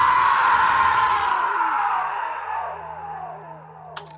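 A sustained vocal scream recorded for a song's bridge, loud and harmonically rich, gliding slowly downward and fading over a few seconds before a brief click at the end.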